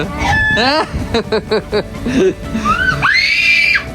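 A rooster crows at a farm in Barka, Oman, while a man imitates it. Voices and calls fill the first seconds, then one rising, drawn-out crow rings out close by near the end.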